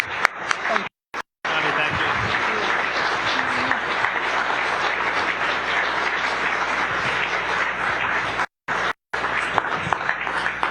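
A large audience at a State of the State event in Corpus Christi's Ortiz Center keeps up steady, dense applause for Texas Governor Greg Abbott, with a couple of brief cuts.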